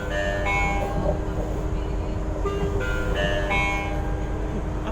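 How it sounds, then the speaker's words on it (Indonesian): Erlangga passenger train at Surabaya Pasar Turi station, a steady rumble of the idling train under a station hall, with brief tonal chime-like notes repeating over the constant drone. "Oh, kereta api Erlangga"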